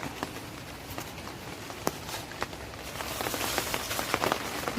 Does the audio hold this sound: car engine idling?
no